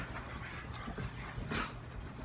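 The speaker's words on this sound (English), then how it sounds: "got my dogs in the background acting up now" Dogs panting and whimpering in a room at home, faint breathy bursts and small yips in the background, quiet and intermittent.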